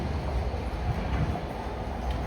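A London train pulls into a station on the line to Tower Gateway, with a steady rumbling roll and faint rail noise at moderate loudness, no talk over it.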